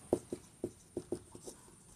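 A pen writes on paper while a Class 12 differentiation math problem is worked out, a short run of soft, close scratching strokes and taps in an uneven rhythm, quiet and with no voices.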